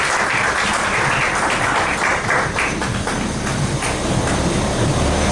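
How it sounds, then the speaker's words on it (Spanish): A church congregation applauds strongly, a dense, steady wash of many hands clapping that continues loudly without a break. "Le damos una fuerte ofrenda de palmas a nuestro buen Dios."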